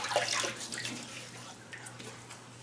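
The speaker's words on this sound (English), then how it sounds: "So I'm just going to wet the face." Tap water runs steadily for a few seconds as a face is wetted before a wet shave, a close, splashy hiss with small bursts of splashing near the start.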